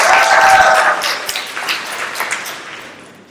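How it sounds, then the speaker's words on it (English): Applause from a youth conference audience greeting a young leader coming up to speak, loud and dense at first, then thinning to scattered claps over a few seconds. "So please give a round of applause"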